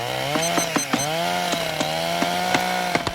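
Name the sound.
chainsaw running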